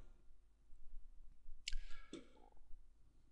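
A computer mouse gives a couple of close, sharp clicks in quick succession against a quiet, faintly humming background, with no voices.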